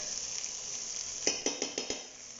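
Minced garlic sizzles in a pan with a soft steady hiss, joined near the end by four quick, light clinks of a utensil against the pan.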